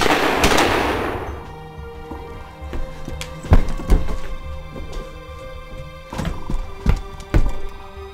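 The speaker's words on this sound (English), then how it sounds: "me and Randy fired some shots at him" Gunshots fired at a monster on a mountain in a horror film, a series of sharp scattered bangs at uneven intervals, some near and loud, others fainter, over a low rumbling background.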